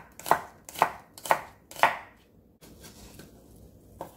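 A knife chops through a medium onion on a board: four sharp, evenly spaced chops, then a few softer, quieter cuts, close up with no talking.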